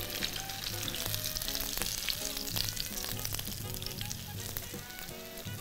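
Breaded pieces fry two at a time in a pan of oil, a continuous bubbling sizzle with small crackles and pops, steady and fairly close with no voices.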